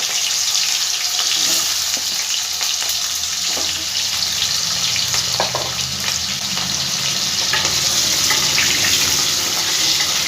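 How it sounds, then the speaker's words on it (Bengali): Potatoes frying in hot white oil in a kadai for a papad curry, a steady close sizzle with light stirring and clinks running throughout, no voices. "তেলের মধ্যে আমি আলুগুলো দিয়ে একটু ভেজে নেব।"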